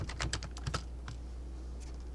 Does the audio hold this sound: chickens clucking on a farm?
no